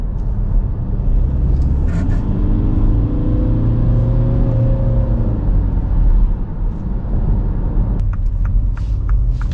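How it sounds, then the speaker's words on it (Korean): A Mini Countryman facelift diesel engine revs hard under low-speed acceleration, a loud steady rumble with rising whirring pitch heard from inside the cabin, with a few faint clicks near the end. "저속 한번 빡 밟아볼게요. 알피엠 치솟는 소리가 너무 들리는데 이거."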